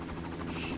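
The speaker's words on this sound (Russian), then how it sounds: "Ага, я нашел, где вертолет, я вижу его." A helicopter in Far Cry (2004) drones steadily in the distance, a low pulsing rotor thrum with a faint buzz, brief and fairly quiet.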